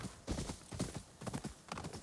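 Horse hooves clip-clop steadily in the video game Ghost of Yōtei, with a rhythmic run of close, fairly loud hoofbeats and no talking over them.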